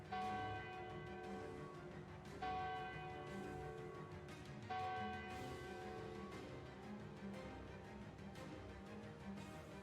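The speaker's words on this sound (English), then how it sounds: "that silence has been broken with the sound of a church bell." A church bell rings steadily in a tabletop fantasy game scene, its sustained tolling loud and resonant with repeated strikes every couple of seconds and a low rumbling bed beneath, no voices.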